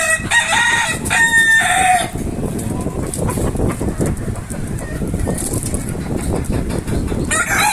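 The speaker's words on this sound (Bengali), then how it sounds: "মুরগিটাকে ধরে মোরগের খাঁচায় দিলে" Native hens and a rooster on a small poultry farm: a loud, close rooster crow opens, followed by steady clucking and fowl calls.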